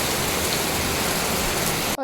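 Heavy monsoon rain pours steadily in a dense, loud hiss close by, unbroken until it cuts off abruptly at the end.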